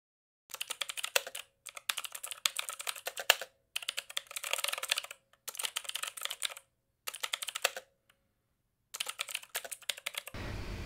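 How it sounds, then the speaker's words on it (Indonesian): Rapid clicking of keys on a computer keyboard as commands are typed, coming in several bursts of quick keystrokes separated by short pauses, close and clear with no voices. "Ketikkan perintah berikut dan klik Enter."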